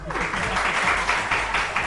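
Studio audience at a Pakistani entertainment show bursts into loud, dense clapping that fills the whole moment, with murmuring voices mixed in beneath it.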